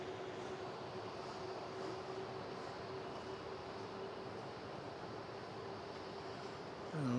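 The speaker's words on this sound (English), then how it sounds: "Next one in is going to be an A320 from Cairns" A Jetstar A320 airliner arrives at Melbourne Airport with a steady, distant jet engine roar and a sustained tonal hum, rising slightly in loudness at the very end.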